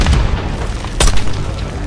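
Mortar explosions in Call of Duty: Black Ops 6, a deep booming blast rolling under dense battle noise, with one sharp burst near the middle of the short stretch.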